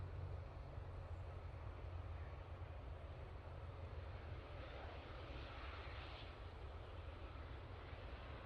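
Jet2 airliner at Manchester Airport, a steady, loud broadband engine roar with heavy low rumble that holds evenly throughout, with no voices over it.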